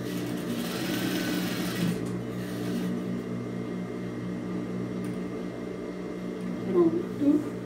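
A sewing machine stitches a fabric microwave towel, its motor whirring steadily and close for the whole stretch, with a voice speaking in the background.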